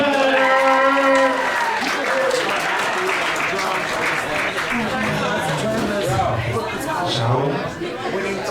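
Comedy roast battle crowd applauding two competitors, loud sustained clapping with cheers and chatter mixed in, continuing for several seconds.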